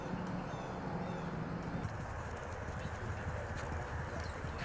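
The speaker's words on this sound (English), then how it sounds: "listening to the thundering hooves and the horses' heavy breathing as they rush by" Hooves pound in a fast rumbling clatter as racehorses gallop by in Kentucky, heard from a short distance, with the horses' heavy breathing.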